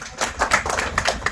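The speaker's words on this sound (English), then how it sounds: "Let's give him a round of applause" Scattered audience clapping at a manufacturing-sector event welcoming a remote guest speaker: a small group's uneven, sparse hand claps, close and moderately loud, with no talking.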